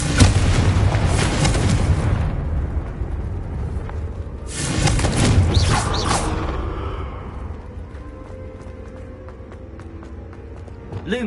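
Confringo blasting spell in a Harry Potter game bursting with a loud booming explosion, followed by another heavy blast and crackling debris that fades into quieter ambience.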